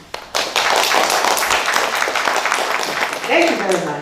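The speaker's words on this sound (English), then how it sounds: "a loud applause for our speakers today" An audience applauds speakers at a live-streamed conference session, starting with a couple of sharp claps and swelling into steady, fairly loud clapping, with a voice speaking near the end.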